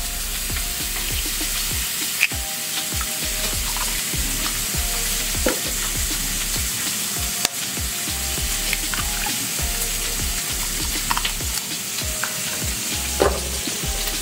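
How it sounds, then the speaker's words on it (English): Steady crackling sizzle of bacon frying in a pan, continuous and close, with occasional utensil clinks and stirring scrapes. "frying the bacon"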